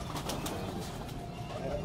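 Kala Ghora pigeons coo softly and steadily for a couple of seconds, a continuous low murmur of birds close by with no talking.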